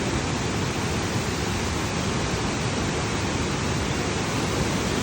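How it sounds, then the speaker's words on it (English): The huge Tad Sae waterfall near Luang Prabang, Laos, gives a steady, loud, dense roar of rushing water that stays constant without a break, and no voices are heard. "and a huge waterfall."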